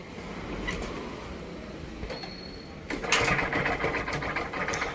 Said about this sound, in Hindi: तो अभी आप जो साउंड सुन रहे हैं ये है क्रैंक की साउंड